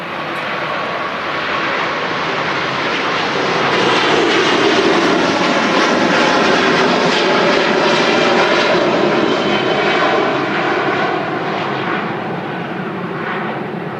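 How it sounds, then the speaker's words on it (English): Jet aircraft engines roar at Manchester Airport, a loud, broad, sustained rumble that swells to a peak midway and stays strong, with no talking. "It's one of the best sounds in modern aviation."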